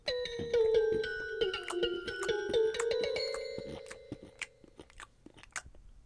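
Someone bites into a piece of fruit, giving a crisp crunch followed by several moist chewing crunches, close and clear, with faint tonal ringing in the background.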